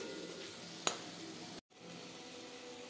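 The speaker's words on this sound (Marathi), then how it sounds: "तेल सुटेपर्यंत मसाला परतवून घ्यायचा." Masala paste of garlic masala, garam masala, coriander-cumin powder and red chilli powder sautéing in oil for spicy misal, a steady close sizzle with one brief sharp clink of a spoon, a momentary dropout, then the frying carries on.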